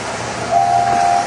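A steam engine lets out one short, steady whistle tone at a railway station, clear over a continuous rumble of background noise.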